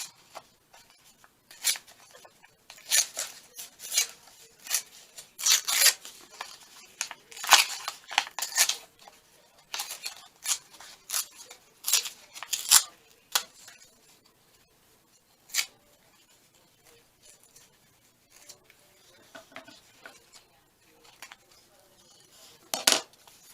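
Scissors cut across paper pieces for a junk journal cluster, giving a series of quick snipping strokes in irregular bursts close up, separated by quiet pauses, with faint handling noise.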